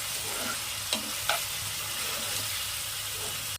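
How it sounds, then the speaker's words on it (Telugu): Prawns are stirred into fried onions in a hot pan, with a steady close sizzle throughout and a couple of soft scraping clinks from the stirring utensil. "వేసుకున్నాక బాగా కలుపుకోవాలి"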